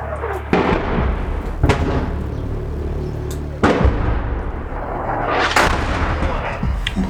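Heavy booming blasts of artillery shelling near Bakhmut, several impacts spaced a few seconds apart, loud and close, over a continuous low rumble.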